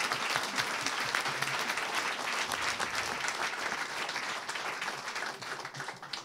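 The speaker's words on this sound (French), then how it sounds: "On peut l'applaudir." Sustained applause from an audience at the close of a mock tribunal event, dense and even clapping that continues without a break throughout.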